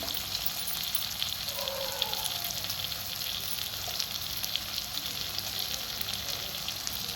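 Chicken frying in hot oil with a spoonful of cumin powder added, a steady dense sizzle that holds constant throughout at close range, with no talking.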